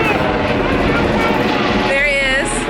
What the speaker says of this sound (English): another helicopter going over me right now